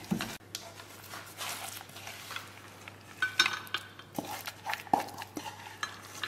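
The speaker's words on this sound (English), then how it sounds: "Go ahead and stir all of that together" Spoon stirring a thick chopped peanut butter cup and protein bar mixture in a bowl, with repeated soft scraping and clinking strokes up close, faint and without talk.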